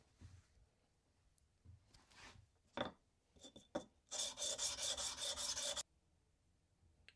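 The head of a brass clock screw is sanded flat on 320 grit paper. Short scattered rubbing strokes build into a steady, fast back-and-forth scraping run of about two seconds, close up and alone before stopping.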